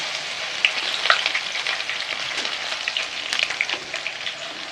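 Garlic frying in hot oil for a Tamil snack mixture, a steady close crackling sizzle with bright spitting pops and no one speaking.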